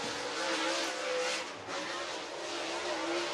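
A dirt track race car roars around the oval at Whynot Motorsports Park in Meridian, Mississippi, a steady, fairly distant engine drone with slight rises and dips in pitch.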